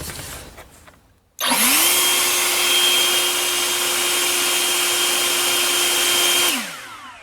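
An EGO battery-powered leaf blower spins up sharply and runs at a loud, steady whine with slight fluctuations in motor speed. After about five seconds it winds down smoothly.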